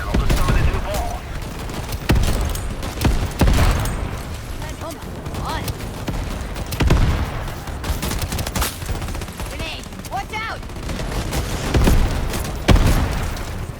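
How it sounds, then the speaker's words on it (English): Explosions and bursts of gunfire in the video game Shatterline, a dense stream of repeated booms and rapid shots layered with game effects, loud throughout with talk mixed in. "Everything's exploding in this game."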